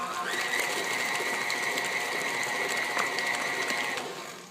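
A stand mixer with a paddle attachment turning a batch, giving a continuous close mechanical whir and gear rattle with a steady whine, winding down at the end.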